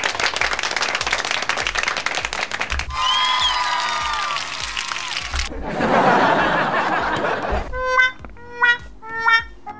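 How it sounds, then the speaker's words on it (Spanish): Canned applause and crowd sound effects play back from a Comica ADCaster C1-K1 button, loud and continuous, shifting through several distinct clapping and cheering clips, ending with short laughter bursts. "típico de aplauso."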